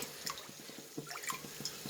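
Water trickling and splashing into a pot of sautéed prawns for biryani in a short, soft pour with small dripping plinks.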